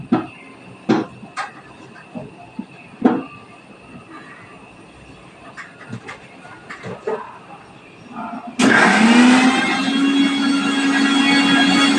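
An electric blender grinds mango into a paste, starting abruptly as a loud, steady whirring roar after a stretch of quieter clattering and knocks.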